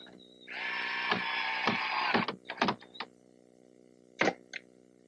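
A power drill drives screws to secure a 2x4 nailer on a wooden gazebo: one long whirring run, then several short bursts and a final pair of brief pulses, close and fairly quiet.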